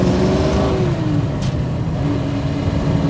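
1967 Ford Mustang restomod with a 347ci V8 accelerating hard, a loud close engine roar with a rising then falling tone as it pulls and shifts, heard alone without talk.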